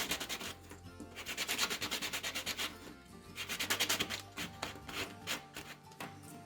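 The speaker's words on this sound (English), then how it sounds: "you know, you can lightly sand it" Epoxy resin keychain edges being lightly sanded by hand, a steady series of rhythmic rubbing strokes in close bursts, fairly loud and continuous with brief pauses between passes.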